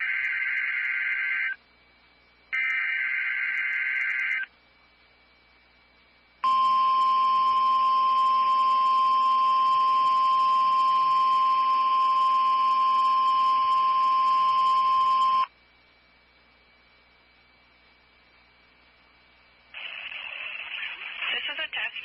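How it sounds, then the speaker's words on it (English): NOAA Weather Radio warning alarm test: long, loud electronic data bursts, then a steady piercing single-pitch attention tone held for about nine seconds, followed by a pause and a closing burst. "The attention signals you just heard will automatically activate special receivers to warn of the impending hazard."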